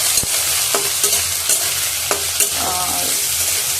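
Potatoes and vegetables fry in a pan, loud close sizzling with repeated scraping knocks of a spatula stirring them at an irregular pace.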